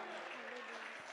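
Congregation clapping during a church service, a steady dense patter of applause filling the whole brief moment, with faint voices underneath.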